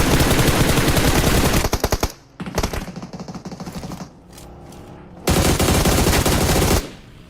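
Rapid automatic gunfire from the mobile game PUBG Mobile rattles in loud sustained bursts, broken by short pauses and scattered single shots, then another long burst, with no voices heard.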